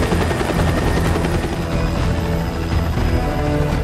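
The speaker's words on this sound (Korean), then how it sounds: "잭은 그 자리에서 헬기에 올라탑니다." A helicopter, apparently a United States Coast Guard craft, runs steadily and loudly nearby with a dense, continuous rotor and engine roar that holds for several seconds, with no talk over it.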